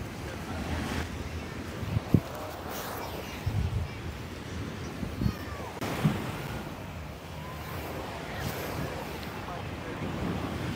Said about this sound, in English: Arish and Ranu, they're floating in the ocean.